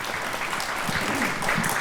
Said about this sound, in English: One more round of applause for Commissioner Boatright and Commissioner Castaneda